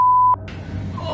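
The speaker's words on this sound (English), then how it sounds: "And then a door alarm goes off." A door alarm sounds in a dark building during a night investigation: a single steady electronic beep tone that cuts off after a third of a second, followed by a short click and low room noise.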